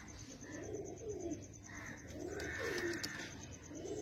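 Pigeons coo in a series of soft, rolling calls, several in a row with short gaps, fairly close and quiet against light background noise.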